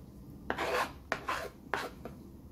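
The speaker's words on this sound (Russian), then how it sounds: "Нарезаю мелко зелень" A knife finely chopping fresh herbs such as dill on a cutting board, three separate bursts of close, moderately quiet rasping cuts spaced about half a second apart, with no talking.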